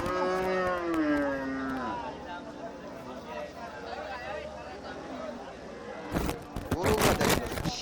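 Dairy cows at a rural cattle market in Raniganj, one drawn-out moo rising near the start amid a busy crowd, with people talking throughout and a burst of loud clatter near the end.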